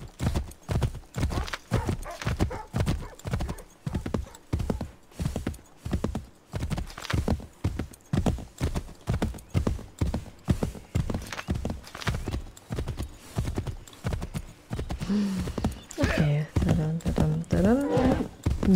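A horse gallops in Assassin's Creed III, with steady, rapid hoofbeats that are loud and continuous and finish with a short whinny.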